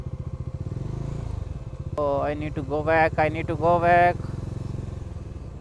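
A motorcycle engine runs steadily in the background throughout, a low pulsing drone near the microphone, while someone talks over it in the middle.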